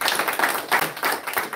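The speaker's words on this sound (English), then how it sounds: "Round of applause," Claps from a congregation at a temple service, heard as a short run of separate, fairly close hand claps at an uneven rhythm.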